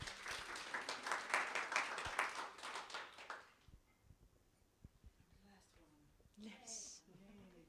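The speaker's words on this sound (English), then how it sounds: "Give her a round of applause." Audience clapping at a school leadership workshop, a dense burst of applause for about three and a half seconds that fades out, followed by quiet room noise and a few spoken words.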